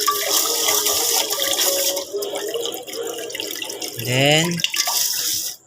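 Washed rice drains as water pours and splashes steadily into a sink, with a brief gurgling rise near the end; a voice speaks briefly over it.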